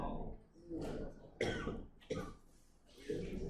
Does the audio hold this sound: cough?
yes